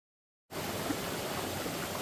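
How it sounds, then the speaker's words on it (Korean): After a brief silent start, a mountain waterfall roars steadily at moderate level, a continuous hiss of falling water with no voices. "아까 올라갈 때 보았던 폭포 다시 이렇게 보고 있습니다."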